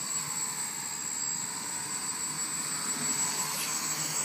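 A hexacopter drone flies in an open area, giving a steady, fairly loud broadband whir with a high motor whine throughout, no voices present.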